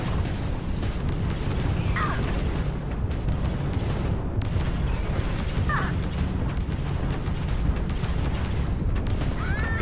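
Missile launches and explosions in the space-combat game Starfield, a steady dense roar of engine noise and blasts with brief whooshing streaks, continuous and loud throughout, with a voice speaking over it.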